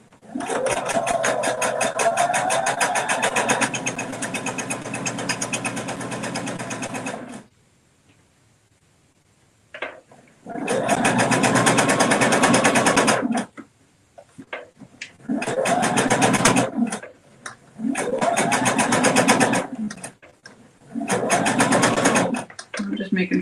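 Sewing machine stitching fabric strips for rainbow weave placemats, running loudly in several bursts of a few seconds each with brief pauses between.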